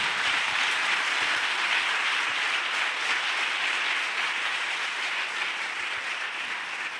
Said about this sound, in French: lève-toi pour acclamer puissamment le Seigneur